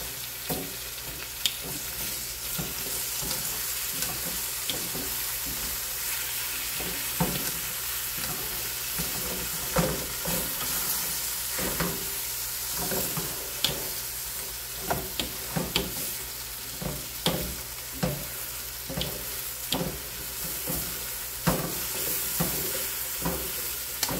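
Pork stew frying and being stirred in a single pot: a steady close sizzle runs throughout, broken by repeated scraping spoon strokes at an uneven rhythm, with no talking.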